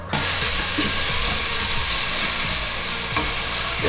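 Onions frying in a pan, a steady loud sizzle and crackle that starts abruptly and continues unbroken, with faint stirring clinks.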